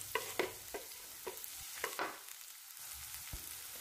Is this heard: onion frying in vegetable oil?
yes